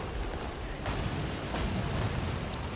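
A tank gun fires in the War Thunder video game, heard as a few dull booms, with the nearest one loud, over steady game rumble and no talking.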